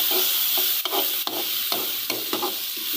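Finely chopped tomatoes, about a cup, sautéing in hot oil with green chillies for dhaba-style daal mash, giving a steady close sizzle broken by a few scraping stirs.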